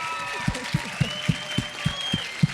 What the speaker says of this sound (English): And let's a round of applause for Shelley.